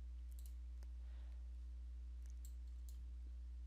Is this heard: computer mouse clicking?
yes